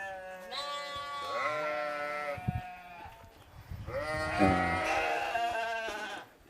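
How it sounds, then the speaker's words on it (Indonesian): Goats bleat repeatedly at a village spot, wavering calls rising and falling across the stretch, fairly close, with a voice talking faintly between them. "Tuh, banyak kambing di sini teh"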